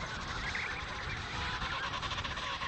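Emperor penguins calling en masse at an Antarctic breeding colony on sea ice, a dense, continuous honking chorus of many birds at once, loud and steady throughout with no talk.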